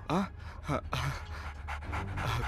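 A dog pants close by in quick, heavy, rhythmic breaths with a few whiny rises, heard under and between people talking in a tense indoor scene.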